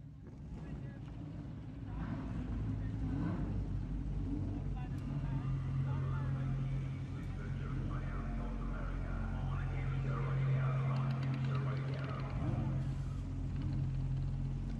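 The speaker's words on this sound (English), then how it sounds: "drivers, start your Lamborghini engines" Lamborghini Super Trofeo race car engines firing up together on the grid at Mid-Ohio, a dense, continuous low mechanical drone with rising revs. A voice can be heard over the engine noise.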